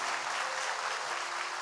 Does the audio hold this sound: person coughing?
no